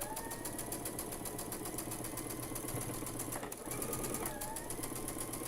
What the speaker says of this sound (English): When I'm sewing, I sew a little bit faster when I'm not teaching